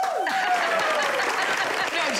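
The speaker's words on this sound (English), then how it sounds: "you guys are really in a clapping mood today." Studio audience applause on a cooking show set, a steady burst of clapping lasting a couple of seconds while a voice speaks over it.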